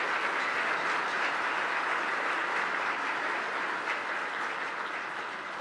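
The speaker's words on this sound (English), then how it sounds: "Give these mom and dads and these little babies a round of applause." Church congregation at Sunday Mass gives a sustained round of applause for new parents and their babies, a dense, steady wash of many hands clapping, moderately loud and unbroken throughout.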